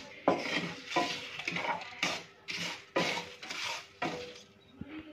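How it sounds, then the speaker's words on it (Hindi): Fenugreek seeds and spices are dry-roasted in a pan, stirred in steady repeated scraping strokes roughly once a second, close and fairly soft, with no talk. "कोई चीज़ जल नहीं रही, कोई चीज़ देखें, सब चीज़ें बिल्कुल एक साथ भुन रही हैं"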